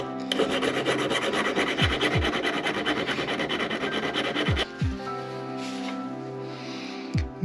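Metal file scraping across a Harbor Freight steel chisel in long, rasping strokes, loud and close, followed by a quieter stretch and one more short stroke at the end.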